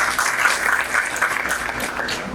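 An audience at a felicitation ceremony for a college principal claps steadily, a dense, even patter of applause throughout without any speech.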